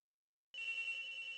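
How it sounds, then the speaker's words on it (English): Agent Hicks's phone ringing in the video game Ace Attorney Investigations, a bright electronic ring that starts suddenly after a moment of silence and holds steadily. "Agent Hicks's phone! It's ringing from somewhere!"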